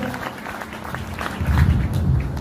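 Applause from the audience at an RCM business seminar, a dense, steady clatter of many hands that swells toward the end of the brief burst.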